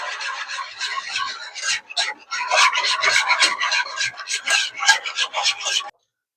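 Whisk scraping steadily around a bowl of wet mixture with minced garlic and onion, a rapid rasping, rubbing rhythm up close that stops abruptly near the end.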